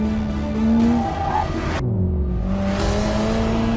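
A Corvette's tires squeal under hard driving while the engine revs, loud and close, with pitch sliding as the car skids and accelerates.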